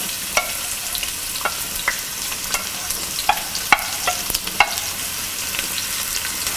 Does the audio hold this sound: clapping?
no